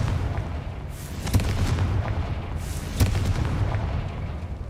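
Confringo explosion spell cast in a video game, heard as two sharp blasts about two seconds apart over a steady low rumbling game ambience, with no voices.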